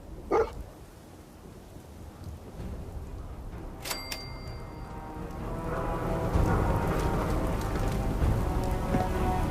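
Dog in the video game Fallout 4, with one short bark near the start, a brief sharp chime after it, and then steady rain on surfaces that grows fuller and louder.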